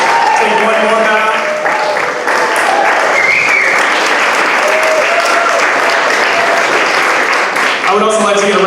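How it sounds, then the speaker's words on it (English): A concert audience gives the composers a round of applause, loud and sustained clapping, with voices speaking and calling out over it. "Can we give a round of applause to all the composers?"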